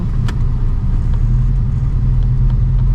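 Road traffic in a Philippine town produces a steady, close, low engine rumble from passing cars and motor vehicles, loud and unbroken, with no voices.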